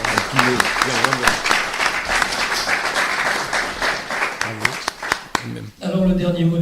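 An audience at a debate event breaks into sustained applause, dense clapping filling the room with voices speaking over it and a few louder individual claps.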